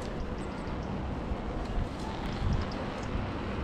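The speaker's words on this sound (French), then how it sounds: "Il y a du vent." Wind buffets the microphone during a bike ride on a frosty, dry day, a steady loud rumbling roar with small gusts and nothing else standing out.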